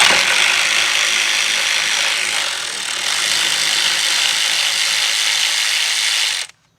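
A ratchet backs a 10 mm bolt out of a Nissan or Infiniti during a starter replacement. It makes a loud, steady, fast clicking rattle for about six seconds, then stops abruptly, with no voices.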